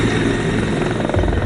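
The chief minister's helicopter lifts off nearby, a loud, continuous, throbbing rotor roar with pulsing blade chop that fills the whole clip.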